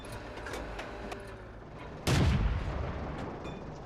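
A Matilda tank's cannon in a winter battle video game fires a single loud, booming shot at a Grant tank, with a sharp blast and rumbling decay over steady low engine hum.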